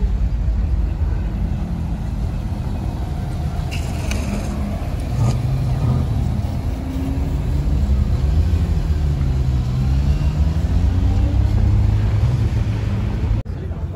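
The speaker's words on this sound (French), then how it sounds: "Regardez ce qui arrive, la Porsche Carrera GT," A Porsche Carrera GT with its rear wing raised passes on a Sunday street at Vauban, a loud low engine rumble rising and swelling under steady wind noise.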